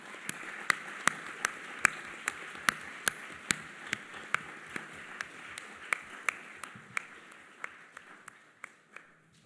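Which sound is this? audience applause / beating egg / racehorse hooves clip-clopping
audience applause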